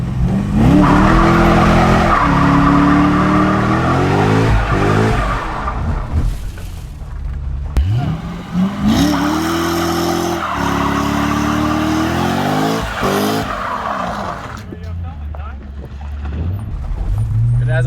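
A wrecked C6 Corvette Z06 revs and accelerates hard in competitive driving mode, its engine rising through loud repeated pulls with tire squeal and gear changes, close and dominant over occasional voices.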